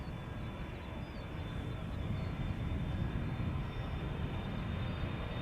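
A CRJ jet airliner bound for Copenhagen makes a faint, steady engine rumble with a thin high whine, distant and continuous.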